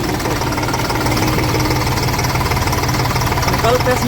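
A tractor engine runs close by with a rapid, steady knocking chug, a loud rhythmic diesel thump that repeats evenly throughout without letting up.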